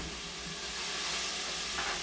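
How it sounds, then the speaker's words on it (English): Mushrooms, onion and peppers sauté in a pan with a dense, steady hiss and sizzle that stays close and even the whole time, with a slight swell near the end. "what we need to do is saute this around"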